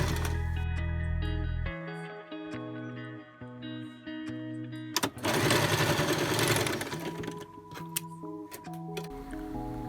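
A household sewing machine stitches the seams of a child's winter cocoon jumpsuit, its rapid mechanical whir running in bursts with stops between, loud and close, with a brief rustle of fabric being handled.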